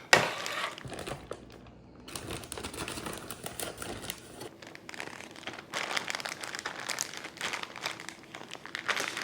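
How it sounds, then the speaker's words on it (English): Sliced onions pushed into a plastic freezer bag, producing close, quiet crinkling and rustling in irregular bursts that run for several seconds with brief pauses, and no talking. "Into a freezer bag they go."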